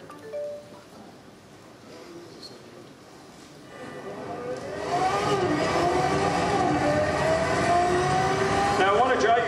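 Pagani Zonda R race car engine at a race start in Need for Speed Shift, a quiet idle that swells around the midpoint into a loud, rising rev and sustained acceleration whine alongside other cars.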